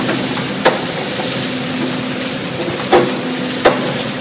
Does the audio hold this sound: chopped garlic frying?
yes